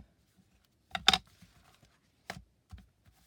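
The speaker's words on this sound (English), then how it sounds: "And burnish that tape down." Tape pressed and rubbed down onto a handmade cardboard lap book, giving one brief scraping rub followed by two short, softer strokes in a quiet room.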